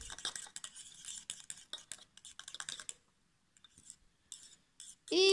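Homemade face cream ingredients being mixed in a small container, a run of quick, light clicking and tapping strokes that pause, return briefly, then end in a louder scrape.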